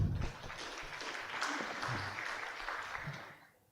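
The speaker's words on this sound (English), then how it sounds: "give applause to Prof." Modest audience applause closes an academic sports conference session honouring a professor, a moderate wash of clapping from a room of listeners that holds fairly steady, then fades out toward the end.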